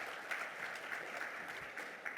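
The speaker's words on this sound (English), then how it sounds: "just another really big round of applause for all of the great voices today" Applause for the speakers at a mental health symposium: soft, even clapping from a crowd, faint and distant, holding steady throughout.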